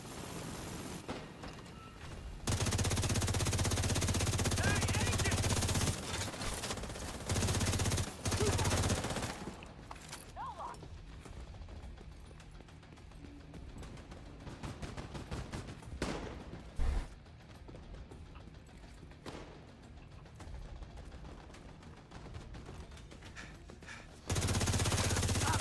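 Automated gun turret in The Division 2 firing in sustained loud mechanical bursts, broken by short gaps, then fading to a quieter rumbling, clattering stretch before another heavy burst at the end.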